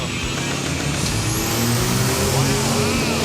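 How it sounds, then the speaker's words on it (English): A four-wheel drive diesel truck roars down a drag strip, its engine loud and close with a rising high whine and heavy rumble, while people talk over it. "I love to see a four-wheel drive truck on the drag strip."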